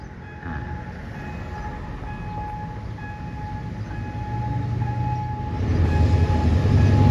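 A Hitachi diesel locomotive, number 4514, hauling a train past a road-rail crossing in central Bangkok, a steady rumble that grows louder as it nears, with a faint ringing tone of the crossing bell running throughout.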